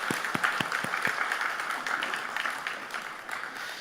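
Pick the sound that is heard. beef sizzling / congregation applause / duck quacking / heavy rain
congregation applause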